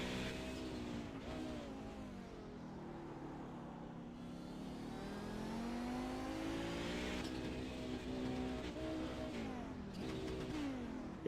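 A GTO race car engine in iRacing at Daytona idles low and then revs up and down steadily through the gears, a continuous droning tone that rises and falls with a faint commentator voice behind it.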